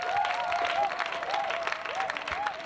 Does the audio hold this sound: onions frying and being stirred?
no